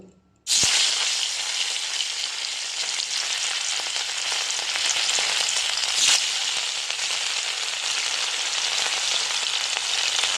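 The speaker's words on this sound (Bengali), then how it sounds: "এখন এক এক করে মাছগুলো দিয়ে লাল লাল করে ভেজে নেব।" Rohu fish pieces dropped into hot oil in a pan, a sudden onset of loud, dense, crackling sizzle that holds steady and close for about ten seconds with no speech.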